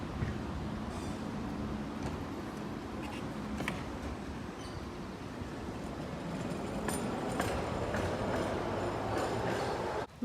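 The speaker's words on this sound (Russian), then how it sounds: "Трамвайчик мой любименький." A city tram rolls past, a continuous rumbling clatter of wheels on rails at moderate distance that swells slightly toward the end, with no talk.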